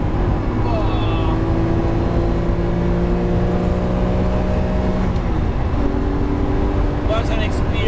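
A loud Lamborghini Murcielago with a 6-speed manual gearbox drives on a motorway, its engine droning steadily with a pitch shift midway as it changes gear, heard from inside the cabin with a voice talking over it.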